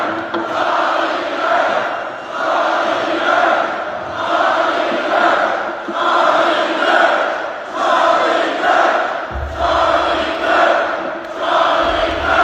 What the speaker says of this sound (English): So big crowd chanting Charlie Kirk